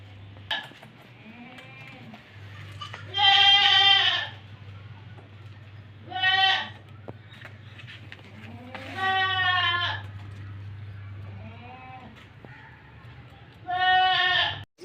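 Several goats bleat in loud, drawn-out cries, roughly four separate calls spaced a few seconds apart, over a steady low hum. The animal is a home-breed nanny goat on sale in Karachi, kept with a young male kid.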